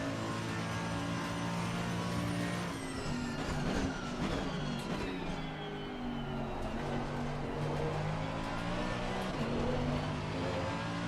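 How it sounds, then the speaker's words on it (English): V8 race car engine in Assetto Corsa Competizione, a continuous droning roar with pitch rising and falling as the car accelerates and shifts, steady and moderately loud with no talk. "so much power. The big engine. V8."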